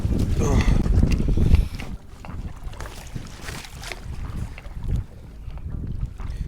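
A fishing motorboat runs on saltwater, its engine and water rush roaring loudly at first, then a lower steady drone with wind buffeting the microphone.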